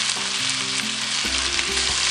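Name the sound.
potatoes frying in a pan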